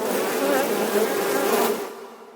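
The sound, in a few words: buzzing of killer bees, sound effect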